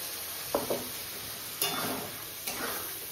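A few short scraping stirs of a spoon in a pan as spices fry with cauliflower curry and peas, each scrape followed by a soft sizzle over a steady faint hiss, close and quiet.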